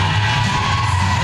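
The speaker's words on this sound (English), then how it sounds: "this crowd here in St. Johnsville is solidly behind it" A dense, loud crowd roars and cheers throughout at a wrestling show in St. Johnsville, a continuous wash of voices with no break.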